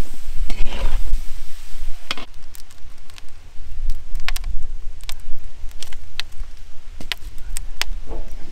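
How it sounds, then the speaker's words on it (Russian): Potato pieces frying in a kazan give a loud, dense crackle with frequent sharp clicks and pops, close and continuous for the whole stretch without speech. "обжариваем картофель"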